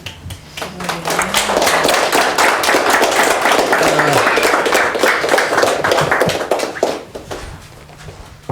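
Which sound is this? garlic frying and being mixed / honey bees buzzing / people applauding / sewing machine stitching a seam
people applauding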